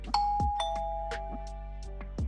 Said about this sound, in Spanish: De pronto suena el timbre de su casa